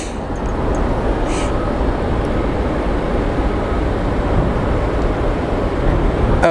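An airplane at Phoenix Sky Harbor International Airport gives a steady, loud, broad jet roar with no breaks, heard from outdoors and filling the whole clip.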